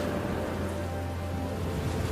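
Steady rain pours down in a village that has long been dry, a dense, even hiss of falling water that carries on without a break, loud and close, with no voices over it.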